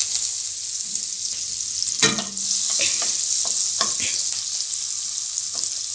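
Two spoons of butter sizzle in a hot kadai with a steady hiss, broken by a few scraping stirs and clinks of a utensil nearby.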